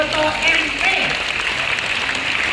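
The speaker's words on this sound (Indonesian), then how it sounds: "kita juga memberikan tepuk tangan meriah untuk Profesor Dr. Insinyur Wiryanto Dewo Broto MP." Applause from an audience honoring a professor at a university ceremony, a steady dense clatter of many hands throughout, loud and continuous without breaks.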